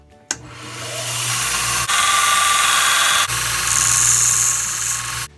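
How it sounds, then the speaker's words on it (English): An electric belt sander fitted with 80 grit belt spins up and grinds a steel bolt from an Audi/Volkswagen 1.8T exhaust manifold, a loud sustained whine and rasp with two brief breaks in contact, then stops abruptly; no voices. "With some 80 grit on the belt sander, I'm going to just grind a little bit off here"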